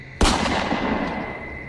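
A single sharp, loud gunshot sound effect in a spoken horror story, cracking out suddenly and then fading in a long echoing tail.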